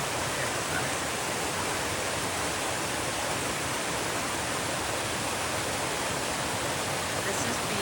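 Beaver Falls, a waterfall on the Appalachian Trail near Beaver Brook, gives off a steady, broad rushing roar that stays even throughout, heard up close with no voices over it.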